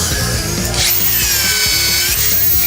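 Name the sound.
power tool torquing a bolt and snapping it off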